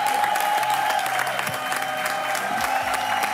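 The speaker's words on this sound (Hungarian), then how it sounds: "Tartsuk fenn ezt a tapsot, mert megérdemli." Steady, dense applause from a studio audience at the Hungarian song contest A Dal 2021, greeting a singer after his song, filling the room evenly throughout.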